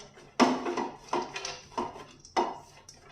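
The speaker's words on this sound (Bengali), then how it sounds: "তারপর দিয়ে দিচ্ছি পেস্তা, তারপর দিয়ে দিচ্ছি এই যে আমন্ড, তারপরে কাজু বাদাম, এগুলোকে দিয়ে দিলাম। হালকা করে একটু ফ্রাই করে নেব।" Pistachios, almonds and cashews go into a pan to fry lightly, making four distinct clattering thuds spaced under a second apart, close and fairly loud.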